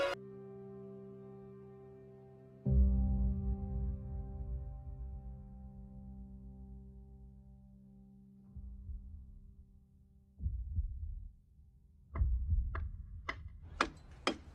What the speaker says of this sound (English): then we hear Vecna's clock in a heartbeat